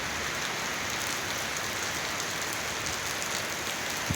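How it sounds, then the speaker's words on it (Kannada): Heavy rain pours down in a steady, dense, unbroken roar, drops drumming on surfaces nearby for the whole stretch, with no voices. "ಅಬ್ಬಾ ನೋಡಿ ಎಂಥ ಮಳೆ ಜೋರು ಮಳೆ ಬರ್ತಾ ಇದೆ"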